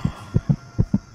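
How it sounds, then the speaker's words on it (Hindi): A heartbeat sound effect in a horror story gives five low, thudding beats in quick, slightly uneven succession, close and muffled over a faint hum. "हृदय का दिल तेजी से धड़क रहा था।"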